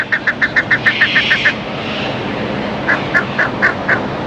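Ducks call in repeated quick, honking bursts, a run of about ten rapid quacks, a pause, then another short series, fairly close over a constant outdoor background hiss, with no voices.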